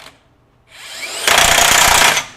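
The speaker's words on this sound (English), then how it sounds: "It actually sensed it was a little snug, stopped for a second, and then started hammering away again." A DeWalt DCF961 20V high-torque cordless impact wrench runs up, then hammers loudly on a snug bolt in a rapid, rattling burst of about a second before stopping.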